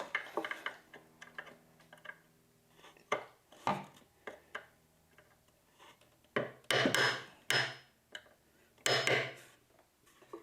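A series of sharp metallic taps and knocks, some single and some in quick bursts, as a hammer drives a punch against a nail head while making drawers, close and fairly loud.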